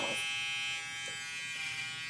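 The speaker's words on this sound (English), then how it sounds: "I'm gonna go back in here with my clipper comb and my clipper without anything on it" Hair clippers with no guard attached buzz steadily and close up, trimming a self-cut mullet haircut, a continuous electric hum with no talking.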